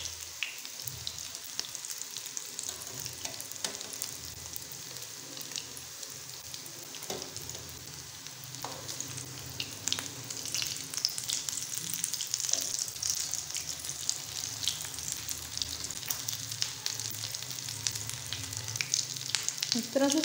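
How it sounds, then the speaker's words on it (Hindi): Potato and egg roll kebabs frying in hot oil, a steady crackling sizzle that runs throughout with occasional sharper pops as they are turned, close and fairly even in level, no talking. "इस तरह से साइड चेंज करते हुए हमने फ्राई करते जाना है"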